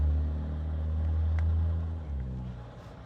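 Steady, loud low rumble of highway traffic on US-395 in Victorville near a multi-vehicle crash scene, a continuous drone of passing vehicles with no talk.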